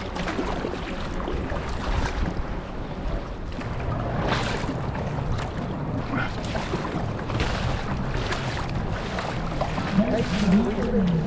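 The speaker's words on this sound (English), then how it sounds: "So the wind has definitely picked up. Some strong gusts now." Strong wind gusts buffet the seaside at Llandudno, Wales, a rough broadband roar swelling and easing in repeated surges, with surf-like wash underneath.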